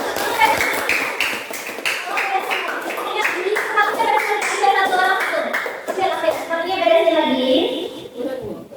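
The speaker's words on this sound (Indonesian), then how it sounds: "Oke, tepuk tangan kita semua." Schoolchildren clap together in a classroom during a coding and artificial intelligence lesson, a dense burst of hand claps lasting several seconds, with children's voices mixed in underneath.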